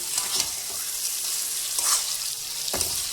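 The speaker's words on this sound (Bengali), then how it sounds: "মাংসটুকু দিয়ে আস্তে আস্তে নেড়ে চেড়ে সুন্দর করে নেড়ে চেড়ে সব কিছু ভালোভাবে মিশিয়ে নিলাম" Meat with spices for biryani is stirred in a pot, with a soft continuous sizzle and a few short scraping strokes of the spoon, close and alone.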